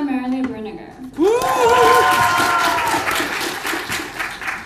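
At a university graduate school orientation, an audience bursts into applause welcoming the professors just introduced, a dense crowd of clapping that swells and then fades, with a voice speaking under it.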